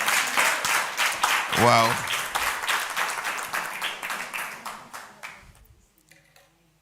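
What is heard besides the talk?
congregation applauding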